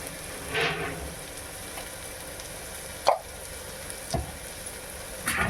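Mutton keema curry with turmeric and salt is stirred in a hot pan, giving a faint steady sizzle broken by a few sharp scraping strokes of the spoon.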